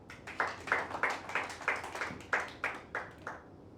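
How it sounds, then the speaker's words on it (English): A small group of trainees at a public speaking course in Hyderabad claps for a presenter, a dozen or so sharp claps in loose rhythm, fairly close and alone with no voices. "let's all clap for Kumar"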